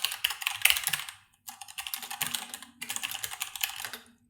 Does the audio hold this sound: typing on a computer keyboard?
yes